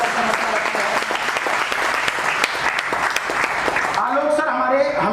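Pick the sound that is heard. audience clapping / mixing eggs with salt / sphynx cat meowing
audience clapping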